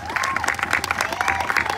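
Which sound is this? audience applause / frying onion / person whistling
audience applause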